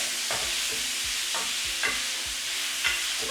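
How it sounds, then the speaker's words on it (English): Beef sizzling in a pan for stroganoff while being stirred, a steady frying hiss broken by about half a dozen rhythmic scraping strokes of a utensil, close and alone. "Give it a stir. And when it's golden brown, you can remove it."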